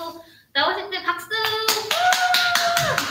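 An audience claps to welcome a guest speaker at an in-person mentoring event, with lively applause starting suddenly after a pause and continuing under cheerful music and voices.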